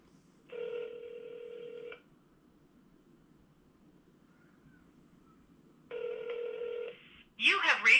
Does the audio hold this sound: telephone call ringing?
yes